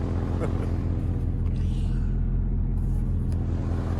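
A 1980 Chevrolet Bel Air wagon engine runs steadily close by, a low continuous rumble at even loudness throughout with no clear revving.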